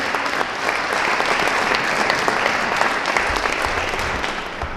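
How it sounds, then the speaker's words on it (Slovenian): An audience at a concert of regional music schools applauds three music school principals, a dense sustained burst of clapping filling the whole stretch. "Tako da en aplavz za te tri velike in pomembne glave."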